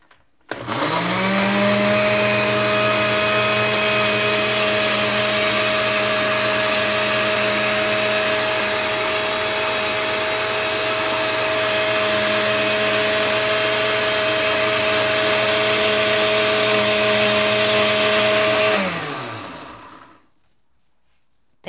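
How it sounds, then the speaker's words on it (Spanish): A countertop blender whirs steadily at high speed for about twenty seconds, grinding peppercorns for a shrimp broth, with a loud, even motor whine that winds down and stops near the end. "Aquí voy a moler la pimienta. Aquí sí se la voy a moler para que agarre sabor. Y la ponemos a trabajar."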